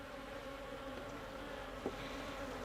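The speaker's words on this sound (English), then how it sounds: "these bees are getting very angry very quick" Agitated honey bees buzzing around an open hive during an inspection, a steady, moderately faint drone with one brief knock partway through.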